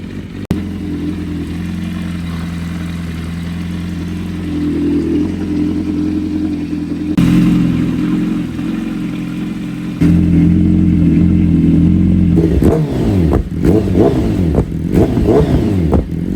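A crash-damaged BMW S1000RR sportbike engine idles with a steady, loud drone, then is blipped and revved several times near the end, pitch rising and falling sharply with mechanical clatter.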